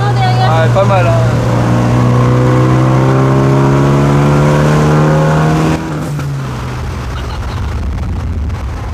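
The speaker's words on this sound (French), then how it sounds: "T'as entendu le petit claquement derrière?" A yellow Renault Megane RS with a stage 2 tune pulls hard with a loud, steady engine drone that climbs in pitch, then the tone drops as it shifts or lifts off, heard from inside the car.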